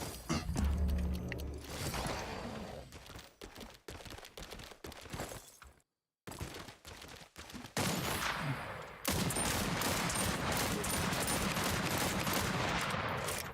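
Video game weapon fire in Realm Royale: rapid bursts of gunshots and mechanical clatter, loud and close, broken by a brief silence midway, then a denser, continuous volley of shots.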